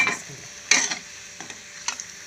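Slow pan frying in oil with a faint sizzle broken by a few distinct scraping stirs of a utensil against the pan, quiet and close, no voices.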